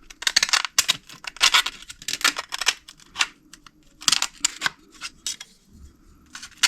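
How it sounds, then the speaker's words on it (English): Blade cutting into a loudspeaker, a series of sharp snipping and scraping bursts in an irregular rhythm, close and fairly crisp, separated by short quiet gaps, with no talking. "I'm actually cutting this one here, and the inside, and then I'll remove it."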